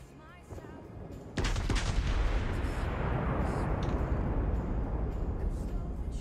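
World of Warships gameplay: a German battleship's main guns fire with a sudden loud boom about a second in, followed by a long rolling rumble and echoing aftermath that fills the rest of the moment.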